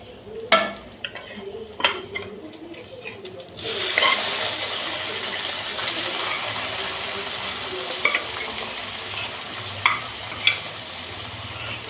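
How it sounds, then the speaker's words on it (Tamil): Boiled goat intestine stir-fried in a pan, with a few scraping utensil clicks before a steady loud sizzle rises and continues, broken by occasional sharp metallic taps. "இப்போ வந்து இந்த குடலை மட்டும் எடுத்து அதில் போட்டு வணக்கிடலாம்."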